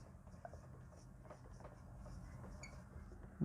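Faint pen scratching on paper as someone writes by hand during a technical lesson, soft irregular strokes close by in a quiet room with a brief thump at the end.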